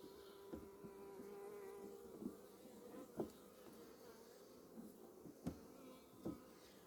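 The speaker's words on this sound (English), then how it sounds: "She's up here buzzing around, trying to tell the girls that something happened." A honey bee buzzes around a beekeeper working an opened hive on a farm, a faint, steady drone with a few soft knocks and bumps and no talking.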